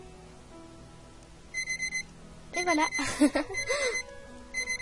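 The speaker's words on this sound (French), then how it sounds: "Comment le réveil vient te gâcher" An alarm clock rings in short repeated bursts of bright electronic beeping, moderately loud, while a voice speaks briefly between the bursts.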